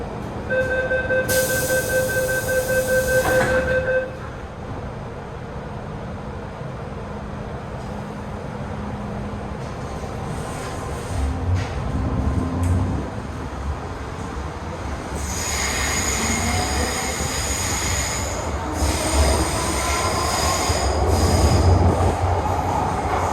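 An MTR Metro-Cammell M-Train runs on the Hong Kong Island Line, a steady interior rumble of wheels on rail rising and falling over time, with a sharp high squeal near the start and brief door chimes and clatter later.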